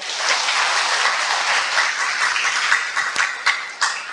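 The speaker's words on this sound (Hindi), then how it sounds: "बहुत अच्छा, तालियां बजाएं" An audience at a meditation camp session breaks into sustained applause, dense many-handed clapping that holds steady for several seconds, with a few sharper individual claps toward the end.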